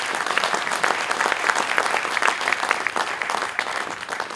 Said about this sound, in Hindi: ताली नहीं मारेंगे।